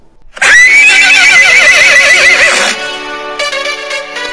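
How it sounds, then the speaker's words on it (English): A horse in the video game Elden Ring lets out a loud, close whinny lasting a couple of seconds, then trails off into softer snorting. "Horse!"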